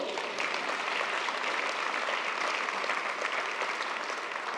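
Audience applause filling a large conference hall at an education forum's opening plenary, steady and dense for several seconds with no voices over it.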